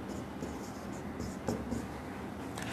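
Chalk or marker scratching on a board in a Bengali pronunciation lecture, a steady run of short strokes and taps over soft room noise, close by and fairly quiet.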